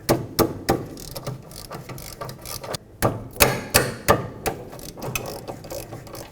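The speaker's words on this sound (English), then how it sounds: "now we can undo the two 13mm bolts that connect the caliper bracket to the knuckle" Ratchet clicking while undoing 13mm caliper bracket bolts on a 2005-2010 Pontiac G6 rear brake, a close series of quick irregular bursts of pawl clicks with short pauses.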